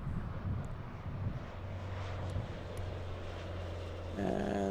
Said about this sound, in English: We have the French Air France 24 flying in from Paris.